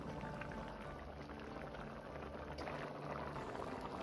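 Chinese pimple soup (gēda tāng) with beaten egg simmering in a pot, a steady close bubbling and seething texture that holds at low level throughout without talk.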